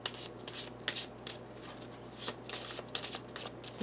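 Tarot cards being shuffled by hand, a steady run of crisp riffling and slapping bursts close up, with no talking.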